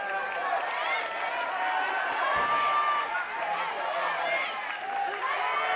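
Arena crowd noise at a men's floorball quarterfinal between Finland and Czechia in Radotín: a steady, dense roar of many voices with scattered shouts, continuous throughout under a commentator's voice.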